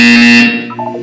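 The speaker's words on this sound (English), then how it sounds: "When you hear the buzzer, look down at the floor." A loud synthetic buzzer in the video game Portal 2 sounds alone as one steady tonal blast, then decays into a few fainter ringing tones.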